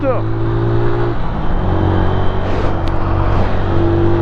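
A 125cc motorcycle accelerates hard on a motorway, its engine note rising in steady harmonic sweeps with a shift partway through, loud and continuous under constant wind and road roar.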